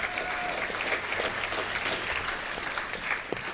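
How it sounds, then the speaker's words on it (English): Steady, dense audience applause at a Comic-Con panel in San Diego, a full room clapping continuously at even loudness with no talk over it. "And, round of applause."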